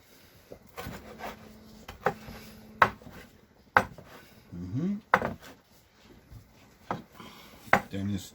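A knife chops food on a cutting board while red pozole is prepared in a home kitchen, giving scattered sharp knocks close by with pauses between them, plus a few scraping sounds.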